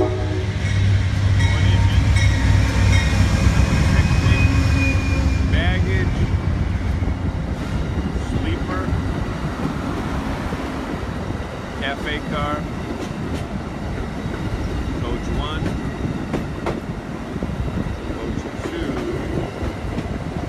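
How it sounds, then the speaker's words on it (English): Amtrak's Lake Shore Limited passenger train from Chicago passes through Worcester, a loud, steady rumble of wheels and cars with a sustained horn tone at the start, continuing as a long roaring pass. "Coming through right on time. It's the train from Chicago."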